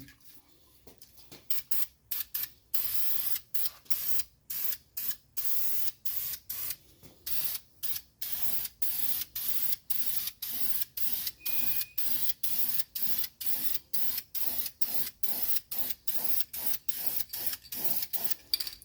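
VHT roll bar and chassis paint sprayed from an aerosol can onto the chassis of a 1979 Mercedes 300SD, a long series of short hissing bursts in quick, fairly regular succession, close and clear with no talk.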